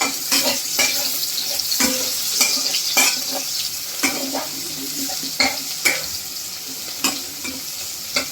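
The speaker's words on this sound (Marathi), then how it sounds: "आता आपण याच्यामध्ये कांदा टाकतो. कांदा पण आपल्याला छान परतून घ्यायचा आहे." Chopped onion with green chillies sautéing in a hot pan for a cowpea curry, a steady close sizzle with repeated scraping stirs of a spatula against the metal every second or so.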